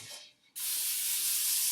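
Nonstick cooking spray hisses from a can into a bowl for bread, a brief puff then a long steady loud spray lasting over a second, close and alone.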